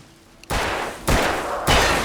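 Three loud gunshots from the Alan Wake video game, spaced about half a second apart, each a sharp broadband burst with a lingering tail, over a quiet background.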